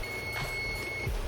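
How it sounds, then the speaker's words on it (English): Kitchen oven beeping to signal it has reached 425 degrees while potato skins are being cooked, a single steady electronic tone held for about a second, fairly clear. "that second beeping that you just heard was the oven set at temperature 425 degrees"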